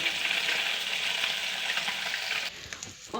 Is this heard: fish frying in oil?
yes